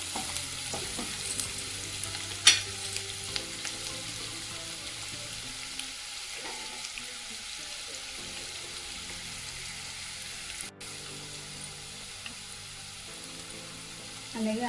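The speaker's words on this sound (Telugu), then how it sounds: "ఆనియన్స్ అయితే వేస్తున్నానండి. ఆనియన్స్ బాగా వేగాలి." Onions frying in a non-stick pan for aloo peas curry give a steady close sizzle throughout, with a few sharp clinks of a utensil against the pan.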